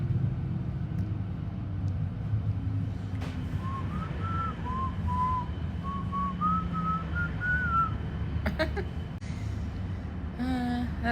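A person whistles a short, steady melody line from a song mid-recording, over a constant low rumble of a moving vehicle, with a few sharp clicks and a brief higher whistle near the end.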